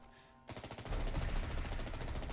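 Sustained automatic gunfire from an IWI Tavor X95 rifle in the Fallout 4 video game, a loud, dense rapid-fire stream that starts abruptly after a quieter moment and continues steadily to the end.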